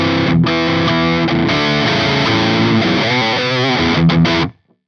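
A high-gain electric guitar runs through the Amplitude 3 Rockerverb 50 Mark II amp plugin, playing a loud, dense, distorted riff for about four seconds before stopping abruptly into silence.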